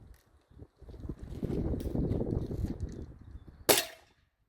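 A Gamo Big Cat Turbo 4.5mm air rifle fires once with a sharp, loud crack near the end, after a stretch of rustling and handling noise from cocking and steadying the rifle.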